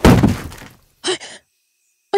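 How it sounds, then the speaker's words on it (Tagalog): A loud, heavy thud of something falling onto a house roof at night, a single booming impact followed by silence and two short vocal-like sounds. "Ano ba yung bumagsak sa bubungan natin? Ang lakas na lagabog ah."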